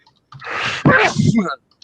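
A single abrupt sneeze bursts out near the mic, a sharp broadband blast lasting about a second, loud and close amid casual conversation between friends.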